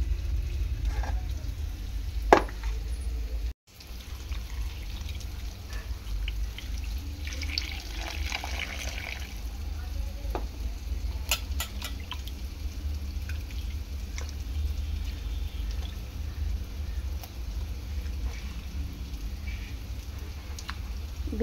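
Fish being rinsed clean under running tap water in a home kitchen, a steady splashing flow with occasional drips and small clinks, continuous and close.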